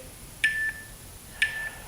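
Two short electronic beeps, about a second apart, each a clear tone over quiet background hiss, during a yoga class.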